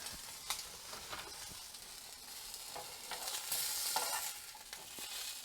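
Chicken frying in a pan on a stove burner gives a steady, fairly quiet sizzle, with a few soft stirring scrapes and brief bursts of crackle partway through.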